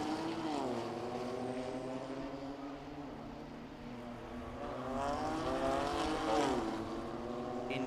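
BMW M2 Cup race car with racing-modified suspension and gearbox lapping the Red Bull Ring circuit, its engine note steady and loud, pitch dipping and climbing through gear changes and corners, with no talk over it.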